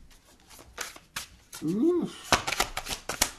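Tarot cards are shuffled by hand in quick, crisp riffling bursts close to the listener, with a short vocal exclamation in the middle.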